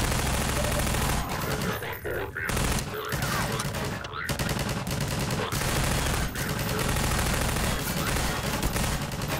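Half-Life 2 player weapon firing in sustained automatic bursts, loud and close with short gaps, someone talking over parts of the shooting.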